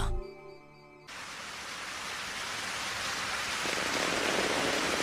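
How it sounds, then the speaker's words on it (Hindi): Steady, dense rain begins abruptly after a brief quiet moment, then keeps up a loud, even hiss that grows slightly heavier toward the end. "बारिश होने लगी।"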